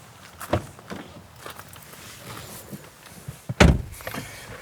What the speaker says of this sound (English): the door shuts with a thunk